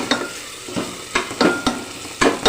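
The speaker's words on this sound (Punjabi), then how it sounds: "ਟਮਾਟਰ ਨੂੰ ਵੀ ਆਪਾਂ ਭੁੰਨ ਲੈਣਾ ਵੀ ਚੰਗੀ ਤਰ੍ਹਾਂ" Tomatoes roasting in a pan while being stirred, with a steady frying sizzle broken by repeated sharp scraping strokes of a spoon against the pan, close and fairly loud, with no talking.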